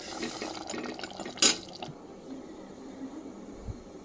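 Mutton gravy simmering lightly in a pan gives a soft, steady bubbling and low watery gurgle, with one brief louder liquid splash partway through.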